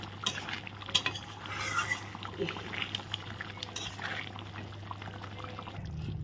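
Ghee and garam masala going into a simmering cooking pot, giving soft pouring and stirring sounds, light clinks of a utensil against the pot over a steady low hum.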